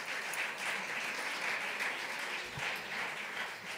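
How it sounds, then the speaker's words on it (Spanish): An audience at a presentation event gives a sustained round of applause, a dense, even wash of many hands clapping at a distance, steady and unbroken. "Otro aplauso para Alicia Arguiñano"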